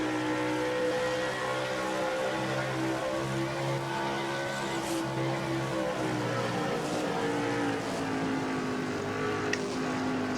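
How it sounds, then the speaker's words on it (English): Onboard engine of a Chevrolet race truck in an NNSCRA truck series race at Springfield Fairgrounds, droning steadily at high revs through turns three and four, with a continuous tonal whine and wind noise and no pauses. "As he goes through turns number 3 and 4 right now, you're on board Quentin Moore's truck."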